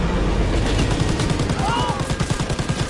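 Rapid gunfire rattles during a Call of Duty WWII battle, with fast machine-gun bursts and scattered shots layered close over background game noise.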